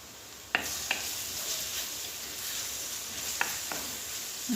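Spices being stirred into a tajine pan with a spoon: a steady soft sizzle throughout, punctuated by a few sharp clicks of the spoon against the pan, fairly quiet and close with no talk.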